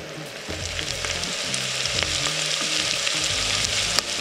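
Olive oil sizzles in a hot pan while tofu goulash is cooked, a dense continuous hiss and crackle close by, broken by a few soft clanks and stirring sounds, with no talking.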